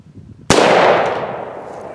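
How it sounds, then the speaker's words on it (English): A Jukar muzzleloading pistol fires a single sharp, loud shot that rings out and decays slowly, after a quiet lead-in, with no voice over it. "Yes! The gun worked!"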